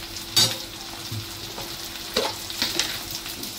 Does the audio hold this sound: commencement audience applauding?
no